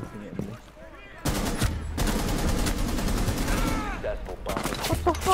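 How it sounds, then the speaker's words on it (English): Heavy gunfire from several enemies in the video game Rainbow Six Siege: dense bursts of automatic fire stutter in loud, rapid volleys, stop briefly, then return, close and harsh, with a player speaking between shots. "They're all just shooting at me."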